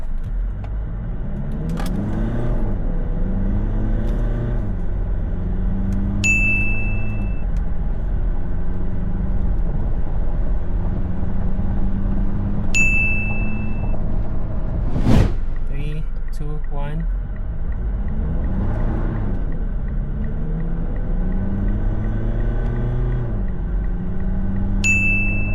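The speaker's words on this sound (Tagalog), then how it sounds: "Testing the Montero acceleration, automatic mode, first try." A Mitsubishi Montero GLS in automatic mode accelerates, its engine drone running steadily and loud throughout with rising and falling tones as it works through the gears, a few faint chimes and a brief sharp knock near the middle.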